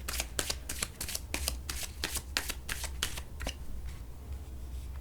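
Tarot cards shuffled by hand in a run of quick, crisp riffling bursts, close and clear with no talking, the rhythm loosening into softer slides near the end.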